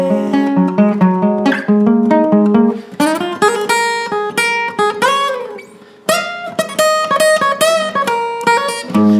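Electric guitar plays the saxophone solo line from a song as a melodic lead, with sustained and bent notes in phrases, loud and close, alone without talk.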